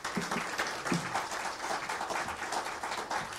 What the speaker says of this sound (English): please, a bigger round of applause